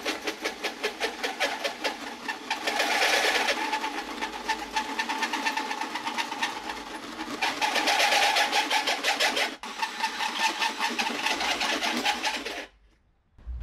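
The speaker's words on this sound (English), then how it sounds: "I never drilled so many holes and through this kind of thick metal" Hole saw drilling through thick sheet metal for a custom radiator skid plate, a steady close rattling grind that runs continuously with one brief break before stopping abruptly near the end.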